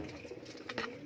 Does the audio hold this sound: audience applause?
no